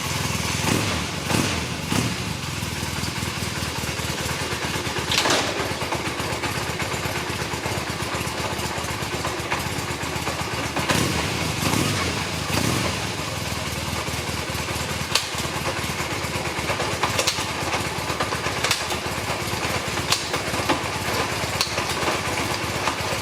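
A Honda 450 Nighthawk motorcycle, its back wheel turning, runs through the gears with a steady, close mechanical engine drone and occasional clunks and shifts in tone.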